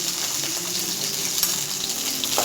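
Whole onions frying in oil for a Tamil sundakkai vathal kuzhambu, a steady close sizzle and crackle filling the short moment with no voices.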